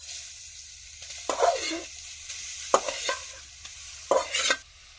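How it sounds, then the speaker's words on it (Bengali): Grated carrots are stirred in hot ghee, giving three separate bursts of scraping and sizzling with brief quieter gaps between them, close and alone with no voices. "এবার নাড়াচাড়া করে একটু ভেজে নেব।"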